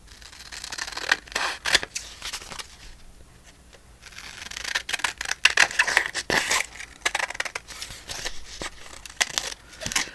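Scissors snip and trim paper pages for a handmade junk journal, giving a run of short, crisp cuts and papery rustles at close range with a brief pause partway through.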